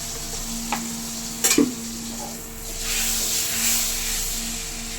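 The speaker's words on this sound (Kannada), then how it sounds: "ಲೋ ಫ್ಲೇಮಲ್ಲಿ ಮಾಡಿಕೊಂಡು ಮೊದಲಿಗೆ ಈರುಳ್ಳಿ ಫ್ರೈ ಮಾಡ್ಕೊಳ್ಳೋಣ." Onions frying in oil in a pan on a low flame, a soft steady sizzle and hiss with a couple of brief stirring clinks near the start, close and even throughout.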